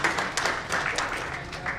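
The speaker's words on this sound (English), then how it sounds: "A round of applause to all our vendors." Faint, diffuse applause from an audience at an oncology symposium, honoring the event's vendors, with scattered claps running throughout and a voice briefly present.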